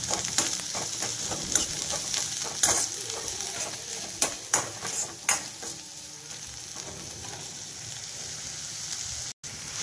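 Capsicum sautéing in a pan for cabbage manchurian, giving a steady bright sizzle with clustered scrapes and taps of a spatula stirring early on, then settling into continuous frying hiss with a brief dropout near the end.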